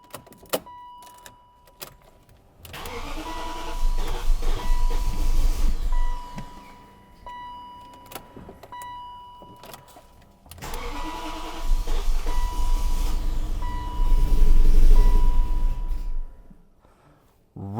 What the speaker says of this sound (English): Ooh, no. It might not even start.